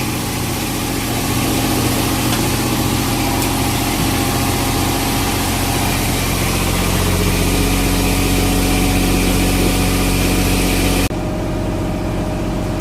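A diesel generator aboard a trawler at anchor runs steadily and loudly, its hum wavering as the RPM fluctuates, then the sound drops off abruptly near the end.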